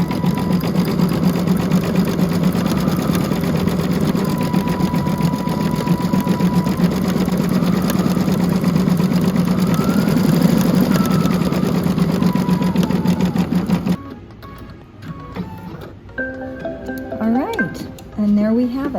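A Baby Lock Altair sewing machine stitches a satin stitch around an appliqué flower, a steady loud mechanical whirring hum that runs continuously and then stops, leaving quieter small clicks and handling sounds near the end.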